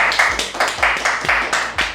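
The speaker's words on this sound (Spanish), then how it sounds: "vamos a recibirla con un aplauso como corresponde" An audience applauds to welcome a guest onto a podcast set, a short burst of several sharp, distinct claps in a quick irregular rhythm, close and clear with no talking over them.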